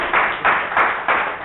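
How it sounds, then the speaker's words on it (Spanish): Congregation in a church clapping in a steady rhythm, about four bursts of claps spaced evenly across a short stretch, fairly loud and close with no talk over it. "Dale un aplauso al Señor."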